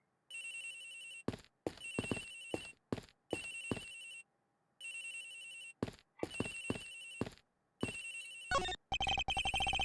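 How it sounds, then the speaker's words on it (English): A phone rings in the Ace Attorney Investigations video game, a loud electronic ringtone in repeated bursts with short gaps, ending in a faster warbling ring, with no talk over it. "Agent Hicks's phone, it's ringing from somewhere."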